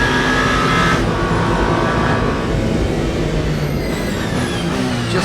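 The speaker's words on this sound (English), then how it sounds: "Just zipping by one of the Ferrari GT3s." Race car in the racing game Le Mans Ultimate passing a Ferrari GT3, a loud continuous engine roar close by, its pitch shifting as it zips past.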